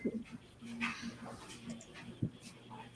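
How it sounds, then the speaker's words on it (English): A dog barks outside, faint and distant, with short yips and whimpers over a quiet room while people talk close by. "The mailman is back, so she's barking out there."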